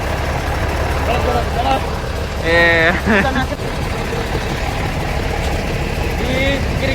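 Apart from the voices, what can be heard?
bus engine idling near exhaust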